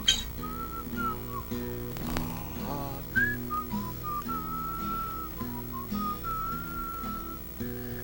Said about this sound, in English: That's a pretty nice tune you're whistling there.